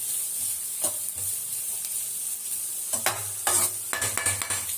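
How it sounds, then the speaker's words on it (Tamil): Carrots sautéing in a pan for vegetable fried rice: a steady, soft sizzle runs throughout, with repeated scraping stirs and spatula knocks that come in short bursts, loudest toward the end. "இது ஒரு 2 நிமிஷம் கேரட் வதங்கட்டும்."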